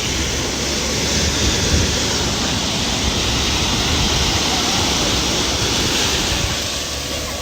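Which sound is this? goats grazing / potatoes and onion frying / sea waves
sea waves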